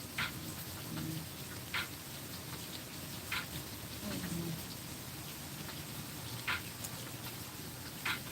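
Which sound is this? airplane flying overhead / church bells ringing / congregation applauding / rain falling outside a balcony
rain falling outside a balcony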